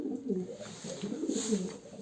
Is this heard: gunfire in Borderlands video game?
no